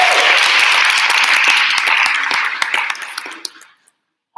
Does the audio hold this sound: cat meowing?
no